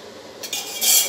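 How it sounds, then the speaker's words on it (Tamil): Water boiling in a pot for making rice vathal, a soft bubbling hiss that swells louder partway through, close by, with no voices. "நல்லா தண்ணி கொதிக்குதுங்க"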